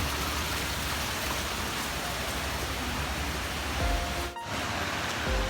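Mae Klang waterfall in Chiang Mai gives a steady, full hiss of rushing water that holds constant throughout, with a faint tone and a brief dip near the end.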